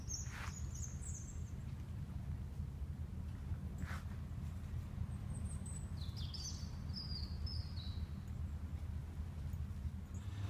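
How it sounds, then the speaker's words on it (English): Birds chirp in scattered short bursts outdoors on a walk in Alcudia, Mallorca. The calls are faint and high, set over a steady low rumble of ambient noise. "Oh, this is lovely, we can hear the birds now."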